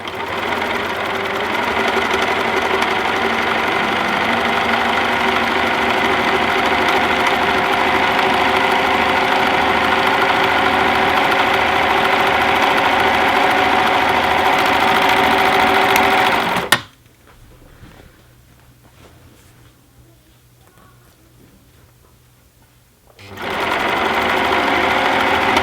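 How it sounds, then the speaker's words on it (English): An overlocker sewing machine hems cut pieces of woven cloth with a loud, steady whir for about seventeen seconds, then stops abruptly into near silence before starting up again. "I'll start by overlocking those pieces that I cut before of the woven cloth."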